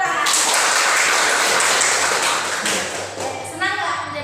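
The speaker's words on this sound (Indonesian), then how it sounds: "Tepuk tangan" A classroom of students bursts into a dense wash of clapping that holds steady for a few seconds, then thins and fades as the applause dies down.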